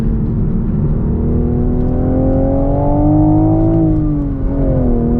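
A 2023 Toyota GR Supra 3.0 with a six-speed manual driven on a track: a loud, steady in-cabin engine drone that rises slightly in pitch as the car accelerates, then dips and climbs again.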